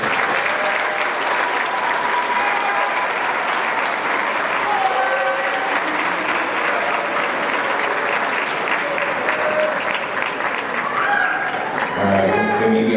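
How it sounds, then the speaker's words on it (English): High school graduates turning to applaud their parents and guests at a graduation ceremony, a loud, sustained roar of clapping from a large crowd with voices mixed in, continuous throughout before fading near the end as a voice begins. "please give a round of applause to your parents and guests"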